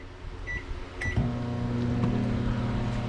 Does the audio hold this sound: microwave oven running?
yes